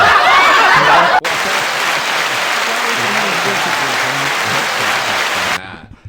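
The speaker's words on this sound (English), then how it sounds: "can you do the little clap thing with the cup slap?" Loud, dense clapping mixed with cup slaps fills a podcast studio, steady and close, broken by a sharp cutoff early on and ending abruptly, with some laughter alongside.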